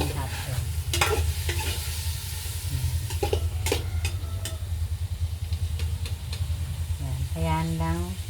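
Hotdogs fry in a pan for soup, with a constant close sizzle under scraping stirs and clatter of a utensil, and a brief voice near the end.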